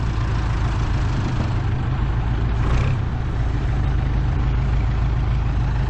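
A heavy diesel tractor engine with twelve thousand operating hours idles steadily and close by, a deep continuous rumble with a faint brief hiss midway, no voices.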